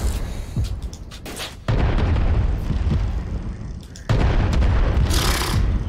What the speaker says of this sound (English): I see a bunch of explosions from up there